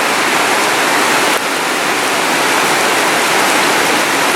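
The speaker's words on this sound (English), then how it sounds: "as you can hear, the rain is coming down" Heavy rain pours down on a rainy day, a loud, dense, continuous hiss that stays steady throughout with no voices.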